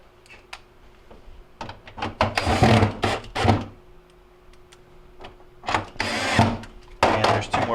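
Phillips screws being driven back into the bottom panel of a Hotpoint refrigerator, with bursts of close clicking and ratcheting separated by short pauses, followed by quieter handling sounds.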